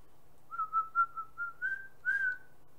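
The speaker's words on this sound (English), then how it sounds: "you're like whistling really loud and scares the hell out of me" A loud, clear whistled tune from the Dead Rising 3 video game: a run of short sustained notes, rising toward a longer, stronger final note, with no talk over it.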